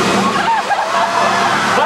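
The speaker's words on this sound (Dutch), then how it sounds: "jetzt kommt die Wasserkanone." A water cannon sprays on a film set with a loud, continuous rushing, splashing hiss, steady from start to finish.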